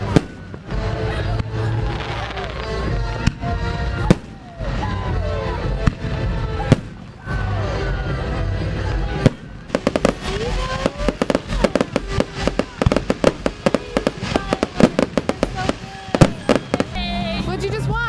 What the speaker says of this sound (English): We watched fireworks.